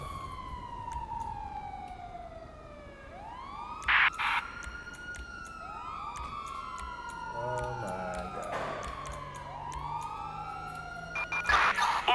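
Wailing emergency-vehicle sirens in the GTA V police mod, rising and falling sweeps overlapping from several units throughout, with brief bursts of other noise and a voice exclaiming in surprise.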